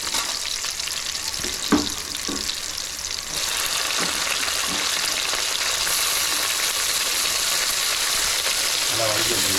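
Tomatoes sizzling with dried red chillies in a pan for beef sukka, a dense broadband hiss that grows louder and steadier midway, with occasional spatula scrapes and knocks.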